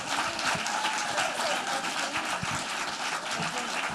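Crowd at an anti-violence town hall in Washington, D.C. gives a loud, sustained round of applause, dense clapping filling the room throughout with no break.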